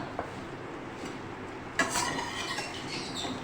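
Okra dropped into two tablespoons of hot oil in a wok, a soft sizzle with scraping of a utensil against the pan, a brighter burst of frying and stirring midway, close and without talk.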